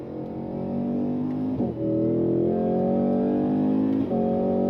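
A 2026 Cadillac CT5-V Blackwing engine revs steadily, with two quick paddle-shifted automatic gear changes causing brief dips before the engine note climbs again; no talking.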